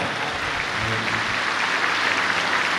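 A church congregation claps during a sermon, a dense, steady wash of applause that holds at an even level throughout with no voices over it.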